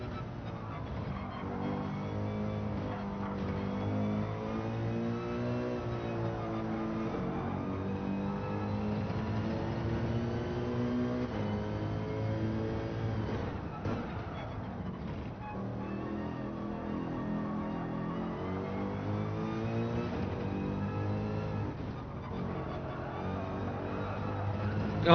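Simulated car lapping a track in Gran Turismo 7 during a time trial, a steady, loud engine drone whose pitch climbs and falls through gear changes and corners, continuous for the whole stretch.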